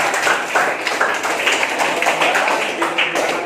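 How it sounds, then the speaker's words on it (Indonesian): A classroom full of students clapping together, steady dense applause lasting a few seconds, fairly loud and close. "tepuk tangan untuk kelompok 2."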